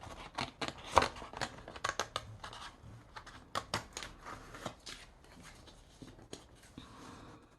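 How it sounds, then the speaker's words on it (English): Scissors snip through cardstock for a Valentine's Day bear card craft, a close series of sharp irregular cuts with short pauses and paper rustling, no voices. "So I will take my scissors now and I will come along and do some cutting."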